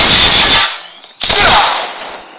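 Loud gunfire in the Call of Duty video game, two heavy blasts close up, each trailing off in a ringing decay, with a short gap between them.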